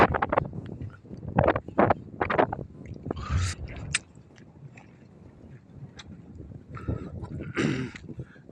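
Strong wind sweeps across open rice fields, a rough broadband rush buffeting the microphone in uneven gusts with no talk.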